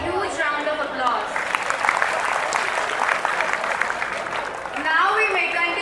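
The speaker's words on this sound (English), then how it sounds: "Appreciate the girls with a huge round of applause." Applause rises from a school audience at a Teacher's Day celebration, clapping steadily in the middle while voices talk over it at the start and end.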